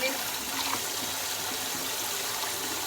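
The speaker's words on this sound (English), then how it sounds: "Hold it down and let it fill with water." Tap water runs into a kitchen sink as it fills, a continuous close, moderately quiet hissing splash with no talk over it.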